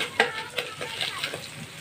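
Tempeh orek is stirred in a frying pan. A soft sizzle runs under quiet scraping strokes of a utensil that repeat every fraction of a second, close by and faint.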